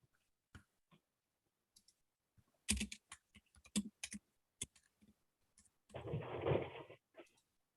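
Scattered keystroke clicks on a computer keyboard, then a dense, louder burst of rapid typing near the end, entering text into a medical reporting program; close and dry with no talking.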